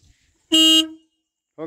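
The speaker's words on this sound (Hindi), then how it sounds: "बजा हॉर्न।" A Mahindra Bolero pickup's horn gives one loud, clear honk of about half a second, close by, followed by a brief bit of talk.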